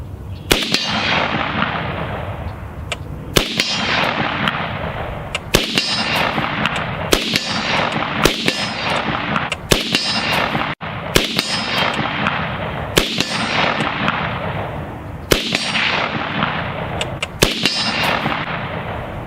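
A Scar 17 rifle fires .308 rounds at steel targets outdoors, each loud shot followed by a ringing metallic clang from the steel; about eight evenly spaced shots with decaying ring between them, no talk.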